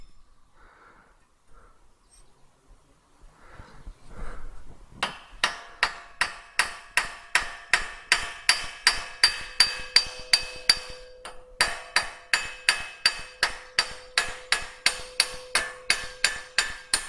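A hammer peens over a forged square tenon on a patio coffee cup holder, striking steel in a long, steady run of sharp ringing metallic blows, close and loud, after a few quieter sounds at the start.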